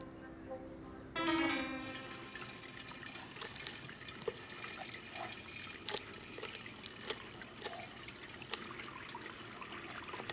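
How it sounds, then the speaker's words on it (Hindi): Tap water runs steadily into a sink at a quiet, even level, with faint drips and small clatters over the flow and a brief louder burst near the start. "पानी बेकार बह रहा है"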